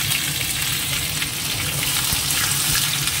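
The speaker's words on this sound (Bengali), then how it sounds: "তেলটা গরম হয়ে গেছে, দিয়ে দিচ্ছি 2টো শুকনো লঙ্কা, একটু রাঁধুনি ফোড়ন, দিয়ে দেবো শসাটা।" Two dried red chillies, radhuni seeds and tender cucumber sizzle in hot oil, a steady dense crackling hiss close by that holds evenly throughout with no voices.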